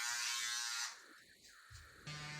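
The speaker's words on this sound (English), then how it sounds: "Now I'm just gonna go up, finish up with my shaver." An electric shaver trims a beard at home, its close high buzz running steadily for nearly a second, then fading into a low hum before a brief second burst at the end.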